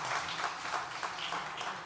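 Brief, fairly soft applause from a conference stage audience at a startup summit, steady clapping with no break.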